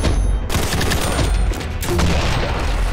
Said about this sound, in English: Oh, we got a minigun.